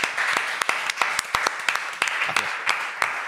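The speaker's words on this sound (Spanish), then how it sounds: "vamos a darle otro aplauso a eso" Audience applause during a Spanish-language comedy radio-style show, a steady patter of many hands with a few sharper close claps standing out, sustained throughout at moderate level without speech.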